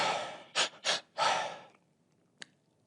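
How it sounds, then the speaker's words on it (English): Breathing exercise with a double inhale followed by a single long exhale through the mouth: two short sharp breaths in, then one longer breath out, close and clear, followed by quiet and a brief soft click. "the pattern of the breathing was a double in and a singular exhale"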